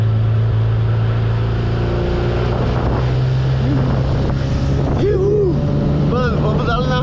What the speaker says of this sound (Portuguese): Tô louco pra acelerar essa mini lancha.